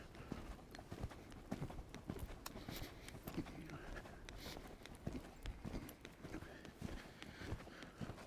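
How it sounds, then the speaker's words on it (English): Rhythmic hoofbeats from a horse cantering a circle in an arena, steady three-beat thuds at moderate distance with faint rustling and some low talking. "what I can start doing is I can just start cantering, and I'll just kind of canter the circle here"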